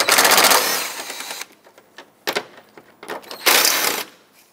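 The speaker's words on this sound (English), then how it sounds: "Let's remove the two 10 millimeter bolts that hold on the air intake here." A ratcheting hand tool working loose two 10 mm bolts holding the air intake on a 2014-2021 Mazda 6 during front bumper work, giving a dense burst of rapid clicking followed by scattered lighter clicks, then another loud rattling run, all close up with no talk.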